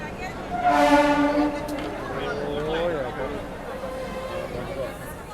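A DEMU train sounds its horn at a crowded station, with a loud, blaring horn blast in the first seconds that fades into a softer, wavering tone, over steady crowd chatter and rail noise.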